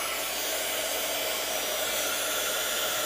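A heat tool blasts hot air over embossing powder on a vellum shaker card, a loud, steady, close whooshing roar that stays level the whole time without any speech.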